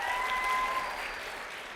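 Applause from a school audience at an awards-style ceremony, a brief steady wash of clapping at moderate distance with no voices over it.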